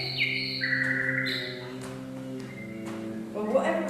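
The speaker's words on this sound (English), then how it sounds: "Yeah, it's a nightingale." A nightingale sings outdoors in clear, whistled phrases that stand out early on, then continues more faintly beneath people chatting nearby.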